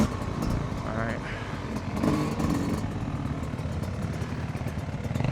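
Yamaha YZ250 two-stroke motocross bike ridden in second gear on a motocross track, its engine droning steadily and close with small rises in revs, mixed with clattery wind noise.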